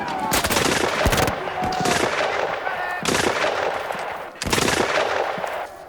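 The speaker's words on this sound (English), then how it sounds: "the two sides engaged in some firing back and forth" Gunfire exchanged in a forest siege between French defenders and New England troops, loud rapid bursts of shots and volleys repeating across the whole stretch, dense and close.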